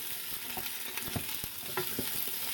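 Vegetables for a chicken noodle soup base sauté in a pot with a steady, soft sizzle, broken by occasional scrapes and clicks of stirring; no voices.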